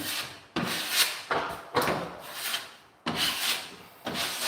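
Repeated scraping and rubbing strokes dig out a drywall expansion joint, close and fairly loud, each gritty pass lasting about half a second to a second with short breaks between them.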